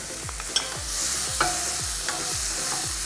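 Finely chopped pearl onion and garlic sautéing in a pan, a steady bright sizzle with regular stirring strokes every half second or so, close and without talk.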